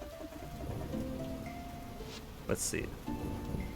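Steady rain patters through a rainy day in the farming game Fields of Mistria, a soft continuous wash under game music, with a brief chime and a short spoken remark partway through.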